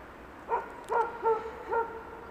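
Dog barking, four short separate barks at a moderate distance with brief pauses between them, standing clear of a quiet background.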